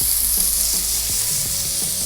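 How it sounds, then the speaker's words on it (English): Silken and firm tofu frying in a hot pan gives off a steady, close sizzle, a continuous bright hiss that holds evenly throughout without breaks. "Sizzle."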